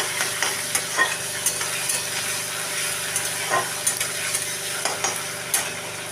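Spices and garlic paste stir-frying in a pan for a prawn curry with ridge gourd and potatoes, a steady close sizzle broken by repeated scraping strokes of a spatula, with no voices over it.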